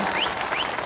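Brief, dense applause from a political rally crowd, steady and loud throughout with no pause.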